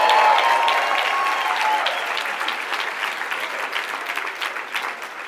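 Live event audience of hundreds clapping and cheering on honorees, a loud dense burst of applause that gradually fades, with a voice faintly heard over it.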